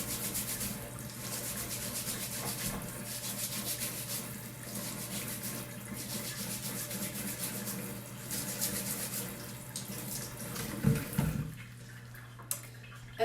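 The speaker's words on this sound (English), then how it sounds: "So I just have a nice brush and I'm just going to give this a really good scrub." A stiff brush scrubs sweet potatoes under running water at a sink, a steady, continuous rubbing and splashing texture with a few louder knocks near the end.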